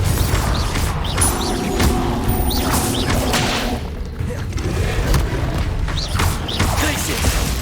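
Spell blasts go off in the Hogwarts Legacy video game as Confringo fires. Booming explosions and whooshing impacts stack over a dense, loud game soundscape with music, and a voice calls out spell names.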